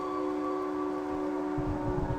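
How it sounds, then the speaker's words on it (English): A video game siren, from a horror game with a train, holds steady tones at several pitches for about two seconds, with low rumbling noise rising near the end and no talking. "Whenever you hear that siren"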